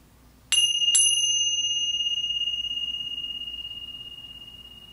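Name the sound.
meditation bell ringing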